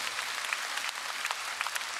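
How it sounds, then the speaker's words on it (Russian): Light, fairly distant clapping from an audience at a Mother's Day concert show, a thin scattered patter of claps lasting a couple of seconds with no voices over it. "Ваши аплодисменты, друзья, Стасия Корсак."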